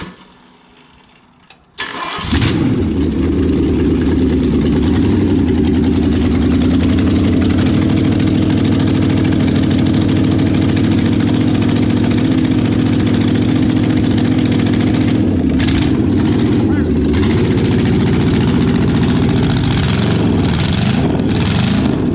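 An engine cranks and catches after a starter replacement, then runs loud and close at a steady rough idle with slight revving changes, continuing for about twenty seconds.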